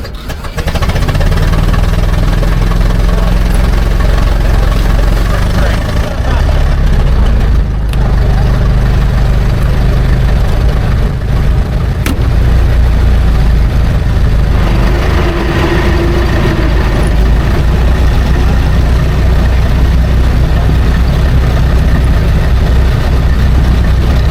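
A stock 20-horsepower Ford Model T engine labouring up a hill at a club hill climb, a loud, close, continuous low engine drone that holds throughout.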